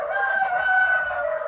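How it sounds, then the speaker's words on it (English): A rooster crows in one sustained, loud, close call that fills the whole moment, with no talk over it. "those chickens going out all in"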